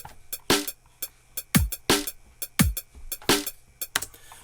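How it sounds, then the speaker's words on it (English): A steady drum beat: deep kick thumps alternating with sharp snare hits and quick hi-hat ticks, at a moderate tempo, clear and close. "So you come from having this normal drum beat that sounds like this"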